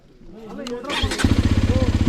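Close-up, a Hero XPulse 210 motorcycle engine cranks and fires, settling into a loud, rhythmic thumping idle, with a voice briefly audible before it starts.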